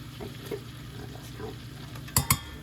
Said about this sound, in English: we're gonna give that a stir with our whisk